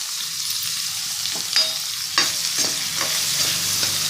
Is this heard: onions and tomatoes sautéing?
yes